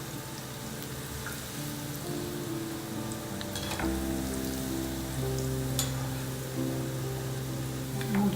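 Muthiya dumplings deep-fry in hot oil over a slow-to-medium flame, a steady crackling sizzle close by with occasional sharper pops and faint clinks, and no talking.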